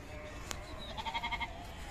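A single sheep or goat gives a brief wavering bleat close by amid the steady background hubbub of the crowded Deonar livestock market.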